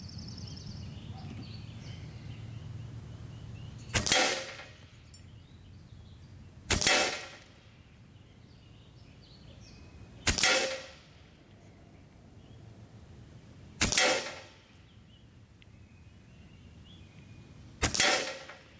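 A regulated Evanix Max Air II PCP bullpup air rifle fires five sharp, loud shots at a bullseye target, spaced about three seconds apart, each crack trailing into a quiet outdoor background.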